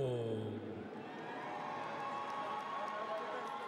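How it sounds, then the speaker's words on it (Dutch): At a boxing event in the Amsterdam Arena, a large crowd roars and applauds in a dense, sustained wash of noise. A voice fades out at the very start. "Applaus voor Regidio Adel."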